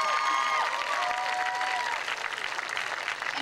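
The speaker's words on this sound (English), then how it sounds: "I know that we should definitely clap for them too." A high school graduation audience applauds in a sustained, dense wash of clapping from a large crowd, with faint voices and whoops briefly rising over it early on.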